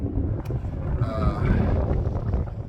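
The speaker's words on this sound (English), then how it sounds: "I'm hoping it's not too windy on the camera." Steady low rumble of wind buffeting the microphone at high altitude on Berthoud Pass, Colorado, continuous and fairly loud throughout.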